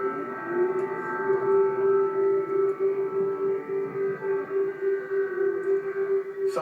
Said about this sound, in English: where air raid sirens have been blaring